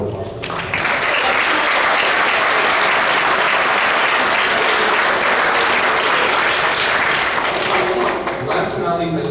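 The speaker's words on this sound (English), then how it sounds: "Round of applause for that" A school audience at an eighth grade middle school band concert breaks into thick, continuous applause after a brief lead-in, many people clapping steadily throughout with some crowd noise mixed in.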